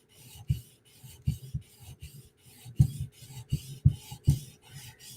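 A Chris Reeve Umnumzaan tanto knife bevel is polished with light, rhythmic rasping strokes on a stone or abrasive, each pass a short scrape repeating roughly twice a second, close and unaccompanied by talk.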